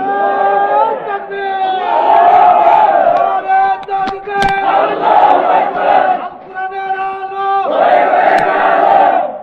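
Large crowd at an Islamic religious gathering in Bangladesh shouting the takbir response in loud, sustained unison bursts, voices rising and falling together over roughly nine seconds with brief lulls between calls.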